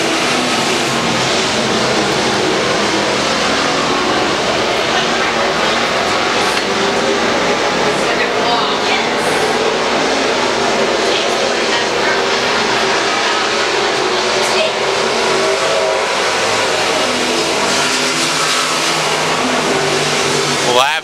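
IMCA stock cars racing on a dirt track, a steady loud roar of engines with crowd and track noise throughout, continuous and dense with no break.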